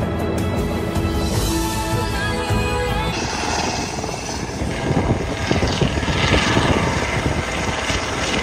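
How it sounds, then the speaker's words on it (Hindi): A helicopter flying overhead in Dubai drones steadily throughout with engine and rotor noise, a heavy low rumble building and thumping more strongly in the second half. "यहाँ के आप हेलीकॉप्टर राइड भी ले सकते हो ये रही"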